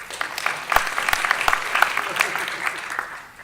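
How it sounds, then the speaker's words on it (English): Scattered clapping from an audience at a college lecture, with sharp individual claps over a continuous patter, mixed with some talking. "You can clap if you'd like, Bill."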